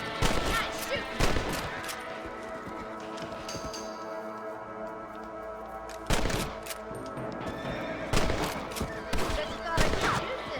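Rifle gunfire in the video game Red Dead Redemption, loud repeated shots in dense volleys over a constant background of game sound, with louder clusters at the start and again later.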